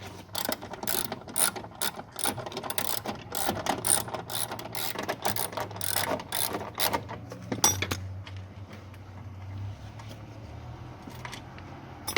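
A 10 mm ratchet wrench loosening a seatbelt bolt in a Hyundai HB20, rapid repeated clicking bursts in quick runs, close and crisp, stopping partway and giving way to quieter mechanical handling.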